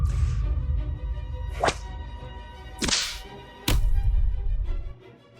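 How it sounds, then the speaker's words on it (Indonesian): Whip lashing during a film shoot scene, three sharp cracks spaced apart over a low rumbling background, loud and close. "Kak Mi, ada yang salah dengan cambuk itu."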